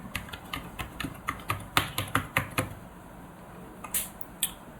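A password typed on a computer keyboard, with a quick burst of close, crisp key clicks, then a pause and a couple of final taps, no voices.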